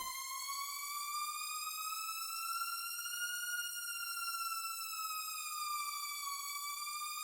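A steady electronic spacecraft warning alarm in a video game wails continuously, its pitch slowly rising and falling like a siren, loud and alone without pauses.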